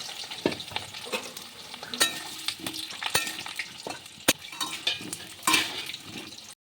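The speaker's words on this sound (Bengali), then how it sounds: "আলুগুলো দিয়ে দেবো, ভালো করে লাল করে ভাজবো, ভেজে তুলে নেব।" Potatoes fry in hot oil with bay leaf, whole garam masala and cumin, a steady close sizzle broken by repeated scrapes and clinks of a spatula stirring against the pan.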